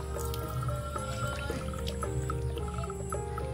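Water poured from a container into the sandy soil of a potted rajnigandha plant, with soft trickling and dripping, quiet and close, and a few faint plinks over the flow.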